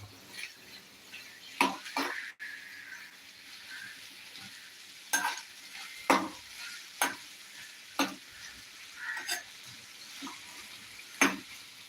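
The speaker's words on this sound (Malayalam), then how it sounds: "ആ പശ മാറുന്നത് വരെ ഒന്ന് ഇളക്കി കൊടുക്കുക" Okra being stirred in a hot pan for a Kerala home-style dish, repeated sharp spatula scrapes and knocks every second or so over a low continuous sizzle, close by with no voices.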